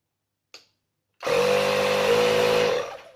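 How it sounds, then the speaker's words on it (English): A battery-powered cordless compressor, apparently a Black and Decker 18-volt unit, starts up and runs steadily for under two seconds with a loud, even motor drone and a whining hum, then winds down, after a brief click. "My compressor works on my batteries."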